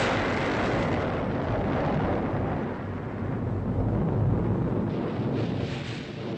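A cartoon bomb explosion unfolds as a loud, sustained rumbling roar that fills the whole clip with dense noise and no clear separate bangs.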